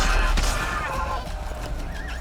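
A horse in the video game The Witcher 2 gives a short, loud whinny with a hint of hoof clip-clop, over faint background game sound.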